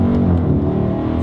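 A Dodge Challenger with a naturally aspirated engine rated at 475 lb-ft of torque launches hard from a dead stop, a loud, close, continuous rising engine roar with no talking.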